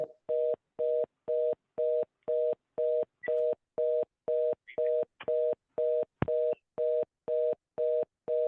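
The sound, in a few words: telephone dial tone after a call was cut off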